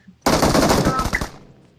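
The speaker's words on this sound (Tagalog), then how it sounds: "Single shot na naman yung baril ko." Single-shot gunfire from a rifle in the PUBG Mobile video game, a loud close burst of rapid successive shots lasting about a second before trailing off, with no talk.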